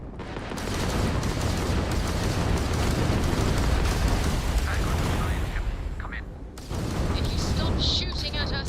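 Starship weapons fire and explosions in the Starfield video game, a dense continuous roar of blasts and booms filling the whole stretch, with a brief dip before a renewed burst of crackling impacts.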